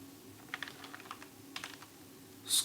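Typing code on a computer keyboard, quick faint clicks in two short bursts, close and alone in a quiet room, with a brighter tapping sound at the very end.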